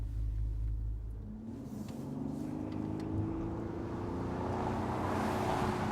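A Bentley Continental Flying Spur engine gives a deep, steady burble as the car accelerates and holds its gear, a continuous low rumble heard close from inside the car.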